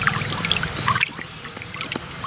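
Biodynamic preparation 500 is stirred into water in a large container, giving a close, soft trickling and sloshing with small drips and splashes throughout.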